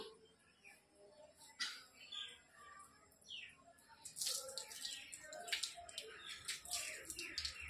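Water pours and splashes in uneven bursts as feet are washed for wudu, the ritual ablution, growing busier and louder toward the end, with faint chirping sounds mixed in.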